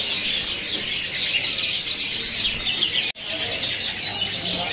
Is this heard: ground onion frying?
no